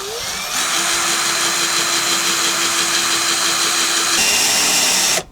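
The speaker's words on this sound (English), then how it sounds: "got myself a little red drill, and we are now going to put a hole in here." A little red power drill whines at steady high speed while boring a hole in a Mitsubishi Evolution 7 boot lid, loud and close, shifting pitch briefly near the end before cutting off.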